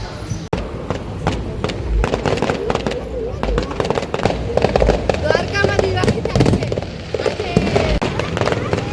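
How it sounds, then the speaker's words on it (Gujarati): Firecrackers burst at a function in Bet Dwarka: a rapid, irregular series of sharp cracks and pops runs throughout, loud and fairly close, with voices murmuring underneath. "અહીંયા એક ફંક્શન રાખવામાં આવ્યું છે, જેના લીધે અહીંયા ફટાકડા ફોડવામાં આવે છે."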